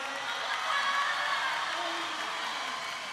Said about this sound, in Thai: ขอเสียงปรบมือให้ทั้ง 25 คนอีกครั้งหนึ่งนะครับ